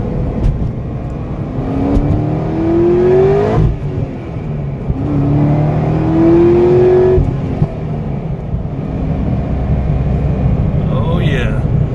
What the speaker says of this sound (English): Oh yeah, this exhaust crackles and pops just like the 2019.